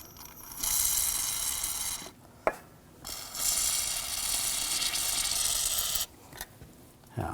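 Rust penetrant sprayed from an aerosol can onto a corroded bolt on a 2006-2009 Audi S4 control arm, two long hissing bursts separated by a brief pause and a small click.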